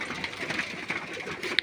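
Pigeons around a rooftop loft, most already gone inside; soft, faint cooing and rustling heard from a short distance, with a sharper call or click right at the end.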